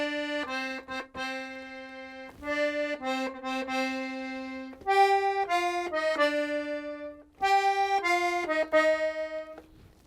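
Accordion plays a theme as a simple one-finger level 1 melody, a sequence of sustained reedy notes with held chords underneath, clear and alone with no talk.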